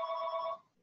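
A home telephone rings once, a loud steady electronic tone close by that cuts off abruptly and leaves near silence.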